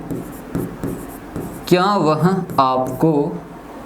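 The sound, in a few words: writing a sentence on a board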